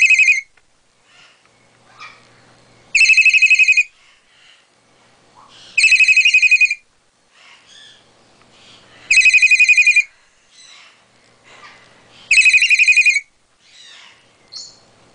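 A pet parrot imitates a cell phone ringtone, repeating a bright electronic ring in four evenly spaced bursts with quiet gaps and faint chirps between them.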